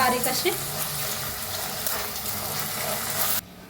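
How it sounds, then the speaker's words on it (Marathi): Chopped onions sizzle and fry steadily in a pan for masala eggs, a continuous dense crackle at moderate level with soft stirring clatter underneath, ending abruptly near the close. "आता मिक्स करून ना छान असं भाजून घेऊया कांद्याला। बघा कांदा भाजायला आलाय"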